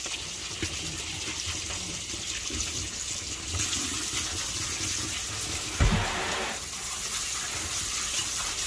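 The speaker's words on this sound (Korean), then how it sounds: "방금 흐르는 물에, 찬물에" Fresh oysters rinsed under cold running tap water in a kitchen, a steady close splashing stream with a brief louder gush near the end.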